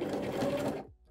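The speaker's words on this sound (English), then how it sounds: "Start to sew," Sewing machine stitching belt loops onto a garment over a bulky seam, a steady close mechanical whir that runs about 0.8 seconds and then stops abruptly.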